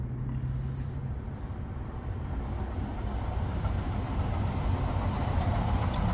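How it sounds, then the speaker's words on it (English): A train rumbles along a busy urban railway line, a steady low drone that builds gradually louder over several seconds with no talk. "More trains."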